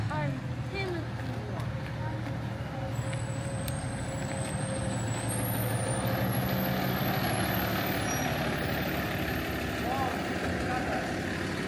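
A fire truck idles with a steady low engine rumble and a hiss of air brakes nearby, while people talk over it throughout.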